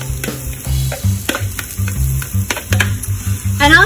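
Two finely chopped onions sizzle and crackle in a hot pan, with close, steady frying under scattered stirring clicks and scrapes.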